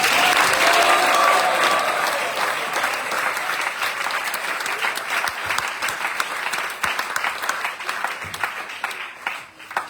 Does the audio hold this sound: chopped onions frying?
no